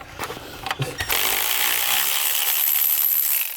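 A few clanks and knocks of metal tools while removing bolts, then a loud continuous high-pitched whir of a power tool running steadily close by.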